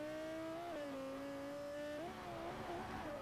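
A video game Lexus GS350 with a swapped-in Lexus LFA engine in Forza 4 holds a high-revving steady whine, then shifts pitch as it changes gear, loud and close with no voices.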